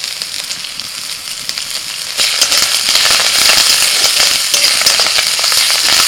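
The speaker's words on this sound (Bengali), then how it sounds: "আদা রসুনটা একটু ভেজে নিয়ে দিয়ে দিচ্ছি কারি পাতা।" Curry leaves hit hot oil with fried ginger, garlic and green chilli, and a quieter sizzle jumps into a loud, crackling fry that carries on steadily, up close with no talking.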